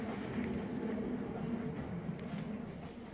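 Ome Line special rapid train pulling into Mitake station, a steady low rumble of wheels and motors running throughout with faint higher squeals, no talk over it.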